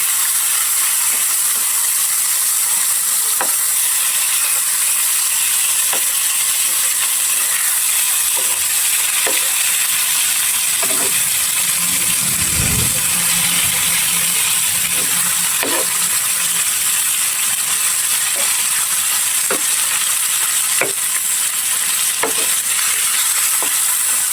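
Fish pieces fry in a pan with a loud continuous sizzle, broken by scattered clicks and a low thump near the middle as the pieces are turned.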